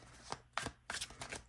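Tarot deck being shuffled by hand, a few soft papery riffling bursts in quick succession, close and fairly quiet with no talking.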